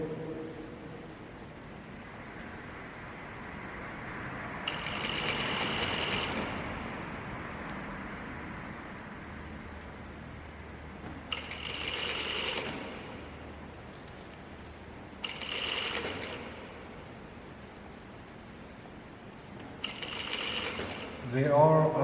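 A sewing machine stitches a pants hemline in several bursts of running, separated by pauses as pins are pulled out, with steady moderate room noise between runs.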